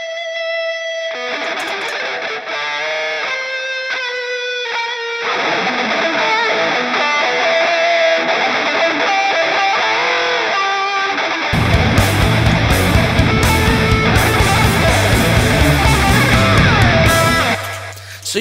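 Heavily distorted electric guitar through a MESA amp simulator plays riffs and chords, loud and saturated, growing thicker and heavier with a deep low-end chug in the latter half.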